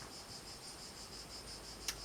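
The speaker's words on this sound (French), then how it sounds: "sous le chant des cigales." Summer cicadas keep up a steady, high buzzing drone with evenly pulsing chirps that continue without a break, followed by a short sharp click near the end.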